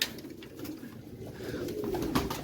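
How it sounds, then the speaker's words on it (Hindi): Pigeons cooing in a loft, including a large pet pigeon, with a low continuous murmur of soft coos and a brief call near the end, steady and close. "ये बहुत बड़ा मेरा कबूतर है"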